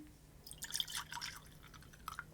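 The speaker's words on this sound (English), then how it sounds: "So I'm going to get it poured" Bourbon whiskey, a Trader Joe's barrel proof bottling, pours into a glass in a short burst of splashing and dripping liquid that comes close and moderately loud, then trails off into a few final drips.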